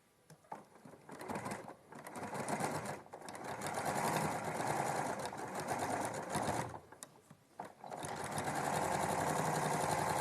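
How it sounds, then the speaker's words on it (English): A sewing machine stitches a quarter-inch seam through quilting cotton, running in loud steady bursts close by with short pauses between runs. "we're going to go in now and we're going to sew at a 1/4 inch"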